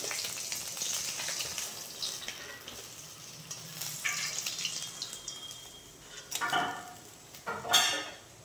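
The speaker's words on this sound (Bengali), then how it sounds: "এবার ঠিক একইভাবে বাকি মাছগুলো আমি ভেজে নেব।" Fish sizzling as it fries in oil in a pan, a steady close crackling hiss with a few louder spattering bursts toward the end.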